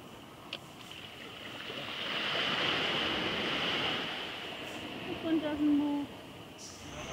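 Ocean surf rolls onto a Bali beach, a broad steady wash swelling and easing over several seconds, mixed with wind on the microphone and a few brief voices in the background.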